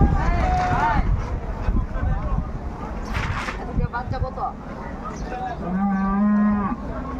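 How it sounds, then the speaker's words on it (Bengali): Buffalo tethered for sale at a crowded Qurbani cattle market give deep, drawn-out moos, one of them loud and near, while people talk and the crowd murmurs around them. "প্রচুর পরিমাণ মহিষ এখনো হাটের ভেতরে আছে।"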